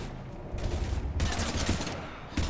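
Rapid gunfire rattles in the video game Mass Effect 3 during a combat scene against husks, loud, dense bursts of automatic shots that start, pause briefly and resume.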